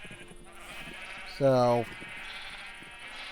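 A single clear, wavering sheep bleat from the Minecraft video game rises for under half a second above a low background hum, with a person briefly talking nearby.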